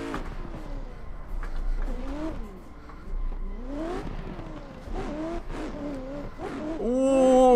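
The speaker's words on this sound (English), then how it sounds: "This track is a lot of clutch kicks and a lot of handbrake." Racing game car engine on a competition drift layout, revving and bouncing in pitch through repeated clutch kicks and handbrake slides, loud and close, climbing to a high rev at the end.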